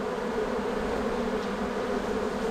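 Honeybee swarm in an attic, a dense continuous buzzing drone of many bees, close and steady with no talking.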